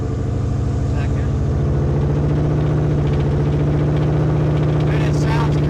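A 1973 Ford Torino with an LS engine swap runs with a steady, throbbing mid-pitched drone and a fast, even pulse, loud and constant throughout, with a faint chirp from the worn belt.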